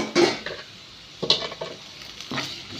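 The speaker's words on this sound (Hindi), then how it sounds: "फोण्णां फ्राय करता" Onions and chilli fry in a pan, a soft sizzle beneath three short bursts of stirring and scraping, close and fairly quiet.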